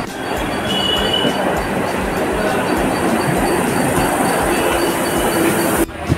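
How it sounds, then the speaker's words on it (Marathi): A train at Ghatkopar station rumbles steadily at close range with metallic wheel squeals and rattling carriages, loud and continuous throughout. "ट्रेन लागलेली आहे गाईज"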